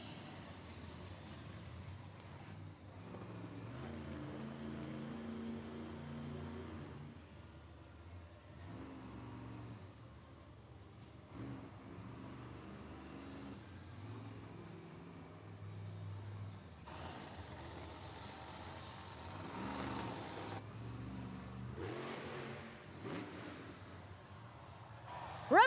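The Gravedigger monster truck's engine roars and revs in long surging bursts at a Monster Jam event in St. Paul, Minnesota, loud and throaty, rising and falling with crowd noise and faint announcer talk around it.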